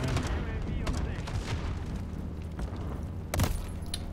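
Sentry gun fire in Call of Duty Modern Warfare 3, sustained rapid gunfire rattling throughout with a louder burst near the end, amid busy game sounds.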